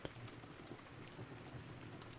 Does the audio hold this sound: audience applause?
no